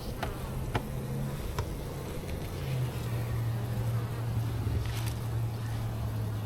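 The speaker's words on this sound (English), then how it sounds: "There's a lot of bees on it." Honey bees buzz steadily at an open hive during an inspection, a continuous close drone with a few individual bees passing by, loud and unbroken for the whole stretch with no talk.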